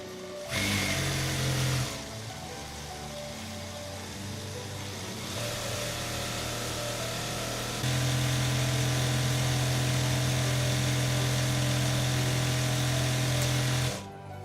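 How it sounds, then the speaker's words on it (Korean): A Mishin Story 930S sewing machine winds thread onto its bobbin, a steady electric motor whir running close and loud for most of the stretch, rising in pitch partway through before stopping near the end. "전원을 켜신 뒤에 발판을 밟아 감아주시면 되겠습니다"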